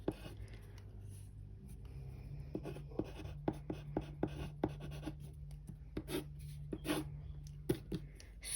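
A pen scratches out the answer to a math problem in short, close strokes and taps, with brief pauses between marks and no talking.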